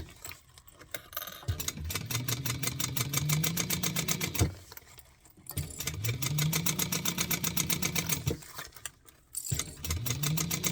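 A sewing machine runs a basting stitch down the sides of an Oro Rosa pattern garment in three close, fast-rattling bursts, each separated by a short pause, with no talking.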